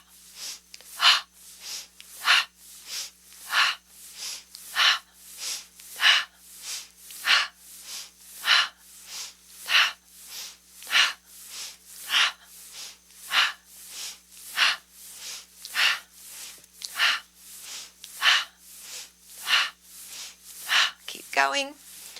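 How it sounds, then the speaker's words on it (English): Rapid rhythmic yoga breathing, drawn in through the nose and pushed out through the mouth, about twenty quick, evenly spaced close breaths with a steady pulse, a sharper snort-like exhale at the end. "This rapid breathing removes any sense of funkiness, changes everything."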